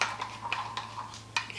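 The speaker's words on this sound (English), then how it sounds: "let me just stir this up real good" A spoon stirs beef stew in a crock pot, giving a few soft scrapes and clinks against the pot over a low steady hum, fairly quiet and brief.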